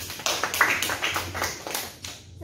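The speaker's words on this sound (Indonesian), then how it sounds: "Beri tepuk tangan dulu untuk Guinness." A classroom of students applauds one student during a microteaching lesson, giving a brief burst of many hands clapping together that fades out after about two seconds.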